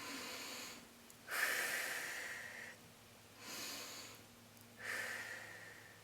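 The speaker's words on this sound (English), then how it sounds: "I want you to take a few breaths" Slow breathing during pelvic floor exercises: three long, soft breaths, each a gentle rush of air lasting a second or two with quiet pauses between, close and unaccompanied by talk.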